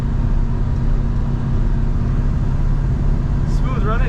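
A 1970 GMC C1500 Custom pickup truck runs at steady road speed, a continuous low engine and road drone heard from the cab, with a brief faint squeak near the end.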